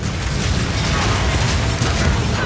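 Armor-piercing crossbow bolts fire in the action game Path of Exile 2, a loud, dense stream of thudding mechanical shots and impacts that runs continuously.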